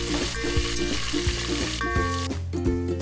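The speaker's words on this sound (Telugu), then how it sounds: "అలాగే కొంచెం కరివేపాకు, 4 ఎండుమిర్చి వేసుకుని బాగా కలుపుకోవాలి." Curry leaves and dried red chillies frying in hot oil for a spicy chicken biryani, a steady close sizzle with scraping stir strokes, no voices.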